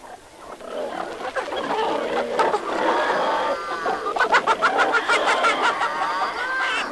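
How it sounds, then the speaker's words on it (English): A barnyard full of farm animals and birds gathering for supper, with clucking, squawking and grunting calls overlapping in a lively, continuous chorus at close range. "the big barnyard where all the farm animals and birds gathered for supper"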